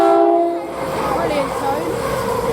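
A Class 222 diesel multiple unit on the Midland Main Line departs West Hampstead Thameslink station, its two-tone horn sounding loud and near before the rising engine and rail noise take over as the train pulls away.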